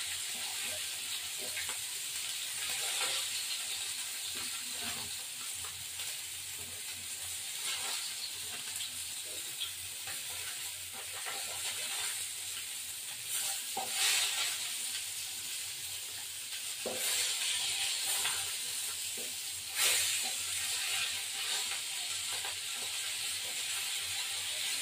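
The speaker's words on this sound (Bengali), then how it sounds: "মাছটা ভাজা হয়ে গেল।" Fish frying in hot oil in a home kitchen: a steady, moderately quiet sizzle and hiss with occasional louder spatters and stirring sounds, continuous throughout with no talking.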